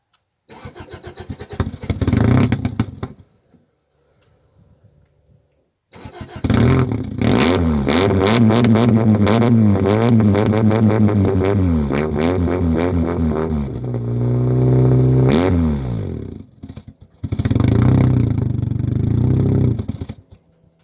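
A Toyota car engine, revived with junkyard parts and a pumped carburetor, cranks and catches, then revs hard in long rising and falling sweeps, settles briefly and roars up again; loud and close, no talk.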